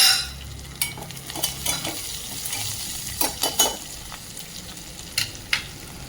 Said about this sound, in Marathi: ओल्या नारळाचे किसलेले किस, तेही तेलामध्ये फ्राय करायचे आहे.